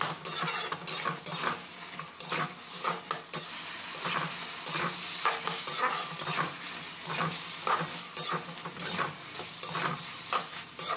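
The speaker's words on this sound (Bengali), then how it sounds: "ঢাকনা খুলে আবার এটাকে নাড়াচাড়া করে নিতে হবে এইভাবে" Green beans and potatoes sizzle in a pan while a utensil stirs and scrapes them in irregular bursts, with clinks of metal on metal.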